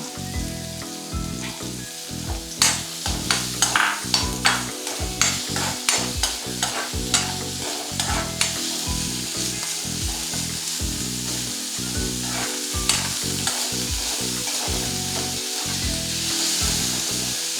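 Chopped onion for paneer bhurji sizzles in a pan while a spatula stirs it in quick, rhythmic scrapes and knocks, close and loud over a steady frying hiss.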